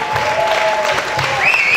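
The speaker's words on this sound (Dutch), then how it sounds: "Nog één applaus" Brief burst of audience applause at a local talent show, steady clapping for under two seconds with a sustained musical tone over it.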